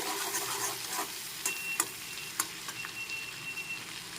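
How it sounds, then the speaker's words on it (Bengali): Grated garlic sizzles steadily in a hot pan, with occasional sharp clicks and scrapes as it is stirred. "রসুন পোয়া গ্রেট করে নিয়েছি একটু নেড়ে চেড়ে ফ্রাই করে নিচ্ছি"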